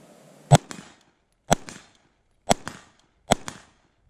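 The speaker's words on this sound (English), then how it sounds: "So let me fire a couple rounds to this" Four suppressed shots from an LMT short-barreled direct-impingement rifle fitted with a Hux suppressor, spaced about a second apart, each a sharp loud crack followed by a quick secondary clack and short tail, no talking.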